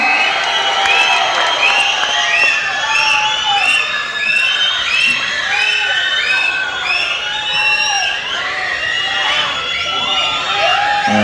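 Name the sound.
audience cheering and applauding at a film audio launch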